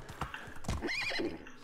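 A horse gallops in the medieval video game Medieval Dynasty, with quick clip-clop hoofbeats and a loud whinny rising over them, close and alone.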